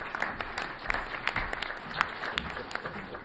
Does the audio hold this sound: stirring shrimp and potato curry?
no